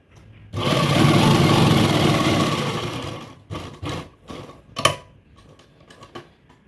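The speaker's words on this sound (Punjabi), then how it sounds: "ਸਿਲਾਈ ਆਪਾਂ ਇੱਥੇ ਵੀ ਲਾਵਾਂਗੇ ਇਹਨੂੰ ਕਢਾਉਣ ਵਾਸਤੇ" A sewing machine stitching fabric in a boutique runs in one sustained, loud burst for about three seconds, then stops and is followed by a few short clicks and knocks nearby.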